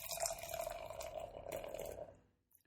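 Lemongrass lager beer poured into a glass, a close, quiet trickling gurgle with a rising tone that tapers off after about two seconds.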